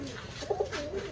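Soft, fairly close cooing of Oman teddy pigeons kept at a village home, a couple of low coos rising midway over a steady background hum.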